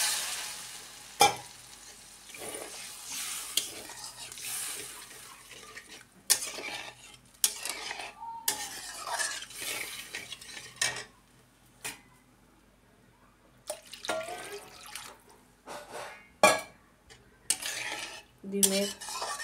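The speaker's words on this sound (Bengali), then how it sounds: "সামান্য একটু জল দিয়ে মাখামাখাই করবো তারপরে।" Masala being stirred and fried in a pan with a little water, a spoon scraping and clinking against the metal in irregular bursts over a soft sizzle, with quiet pauses between strokes.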